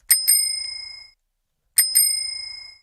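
A bright metallic bicycle bell rings twice in quick succession, pauses, then rings twice again, each ding leaving a short shimmering tail.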